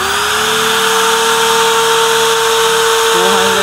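An electric drill running off a portable power station whines steadily at full speed for the whole stretch, loud and close, with a slight pitch shift near the end.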